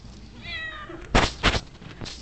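A domestic cat meows once in a drawn-out, wavering call, close and clear, followed by a few loud bumps and thuds nearby.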